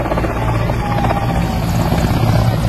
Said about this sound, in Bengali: এই মুহূর্তে এইটা হচ্ছে মোদিজির হেলিকপ্টার